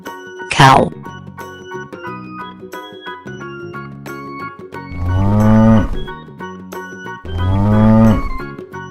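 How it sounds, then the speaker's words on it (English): Cow lowing twice in a children's animal cartoon, two long loud moos spaced a couple of seconds apart over bright background music, with a short whoosh early on. "Cow."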